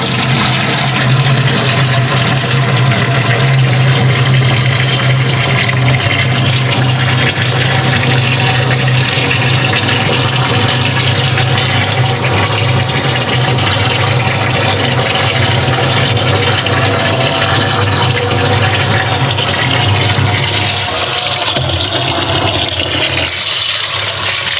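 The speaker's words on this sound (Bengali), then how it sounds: "মাছগুলো ধুয়ে নিই ভালো করে, মাছ কোটার আগে ধুয়ে নিই।" Fish being washed under a strong running tap, water gushing loudly and steadily throughout, with a slight change near the end as the flow shifts.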